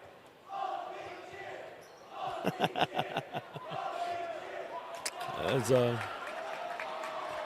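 Crowd in a high school boys basketball gym lets out a loud cheer for the visiting team late in the game, with ball bounces and rhythmic claps rising over steady arena murmur and a sharp rising vocal whoop near the end.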